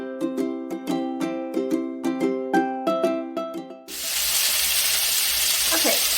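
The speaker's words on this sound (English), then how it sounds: "the potatoes are sizzling here. The ground beef is getting brown." A few ringing melodic notes give way to loud, steady sizzling of potatoes and ground beef frying in a hot pan, continuing close by to the end.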